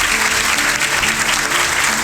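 Audience applause for a farmer's father, honoured for educating his son, at a Hindi success-story gathering; a steady, dense wash of clapping fills the whole stretch at full loudness, with faint voices underneath.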